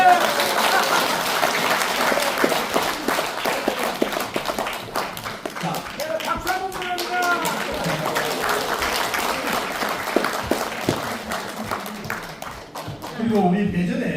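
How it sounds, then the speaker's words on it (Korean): Audience applause at an awards ceremony and seminar hall in Korea, sustained steady clapping from a crowd throughout, with a brief lull near the end before the clapping swells again; a voice is faintly audible underneath. "여러분 우리 세계적인 최고의 미인 사미자 배우님께 다시 한번 큰 박수 부탁드립니다."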